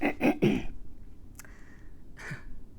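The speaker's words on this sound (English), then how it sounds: "clearing my throat again" A single person clears their throat in one short, raspy burst, close to the microphone in a quiet room, set between brief stretches of speech.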